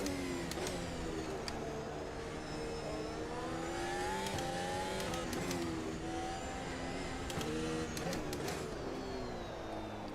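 F1 race cars in the video game Dream F1 scream at high revs, their engine notes rising and falling through gear changes as the pitch sweeps up and down, a loud steady whine with no talk over it.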